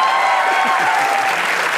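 A comedy talk-show studio audience bursts into loud, continuous clapping that fills the brief moment without a break.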